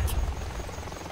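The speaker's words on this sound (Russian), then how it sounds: "Опять вертолеты." A helicopter in a video game drones steadily overhead, a low buzzing rotor hum holding at moderate, fairly distant loudness throughout with no speech.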